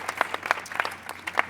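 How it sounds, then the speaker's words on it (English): An audience at a summit gathering claps steadily, a dense patter of many hands filling the room at moderate loudness with no voices over it. "let's give Stuart a round of applause one more time"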